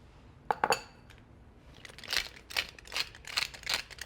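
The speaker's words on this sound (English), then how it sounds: "now I'm going to put in the scallion greens, some salt and pepper, and the almonds, which I've toasted up" Scallion greens, salt, pepper and toasted almonds go into a pan of quinoa pilaf, giving light clinks and taps of a utensil on the pan, then a run of soft scraping and stirring strokes, close and fairly quiet.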